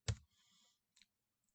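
A couple of quick, sharp clicks, close by and isolated in quiet, like keys tapped on a keyboard.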